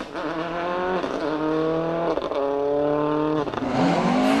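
A lookalike Ford WRC Escort rally car charges along a rally stage at the 2001 Lark in the Park Rally, its engine loud and close, revving hard through repeated rising gear pulls and brief lifts, with no talking.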